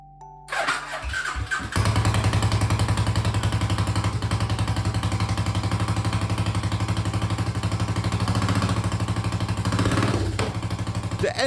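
A Suzuki Savage chopper motorcycle engine cranks and catches, then idles loudly with a steady, rumbling chug that continues to the end.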